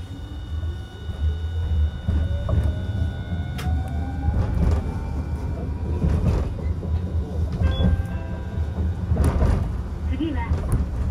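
A Hiroshima Electric Railway 1000-series Green Mover LEX, a three-section low-floor tram, pulls away with a rising electric motor whine over a steady low rumble and rattling, with an onboard voice speaking at times.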